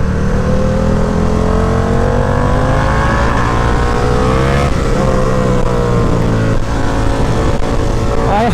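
A motorcycle engine roars loudly and steadily, revving up with rising pitch as it accelerates, heard up close.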